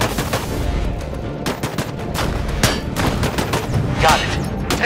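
Dense bursts of video game gunfire as squad units focus fire on target dummies in Disintegration, loud and continuous with rapid automatic volleys over a steady background.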